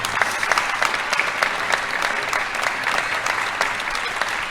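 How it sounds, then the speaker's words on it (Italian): An audience at a book presentation in Pordenone breaks into sustained applause, a dense, even patter of many hands clapping that continues throughout. "perché non ti alzi tu in piedi e facciamo un applauso a te, per esempio?"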